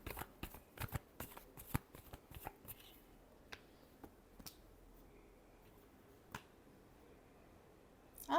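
Tarot cards are shuffled by hand in quick, crisp riffles and taps that come thick at first, then thin out to a few scattered flicks, close and quiet.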